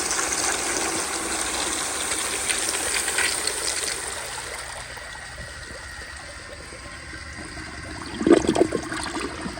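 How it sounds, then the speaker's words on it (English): A 1998 Eljer Dover urinal flushes with a forceful rushing gush of water that tapers into a softer trickle and refill, close by, with a brief splashy burst near the end. "I'm gonna flush it again."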